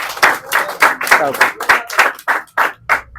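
A group claps for a runner after a timed run during army recruitment training: a brisk series of about a dozen sharp, close handclaps in a loose rhythm, with a voice among them.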